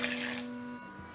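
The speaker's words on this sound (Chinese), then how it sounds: "然后再加入些我们刚才煮山楂的水" Water from boiled hawthorn berries is poured into a high-speed blender over the pitted fruit, a close, bright splashing pour that stops abruptly and leaves near-silence.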